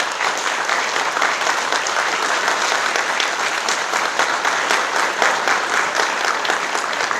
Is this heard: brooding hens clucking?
no